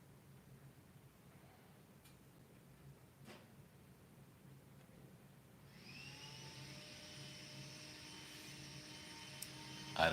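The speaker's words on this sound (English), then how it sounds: "a vacuum cleaner just got turned on" A vacuum cleaner switches on partway through in a room where coffee is being prepared, its steady whooshing drone rising and then holding at a moderate level in the background.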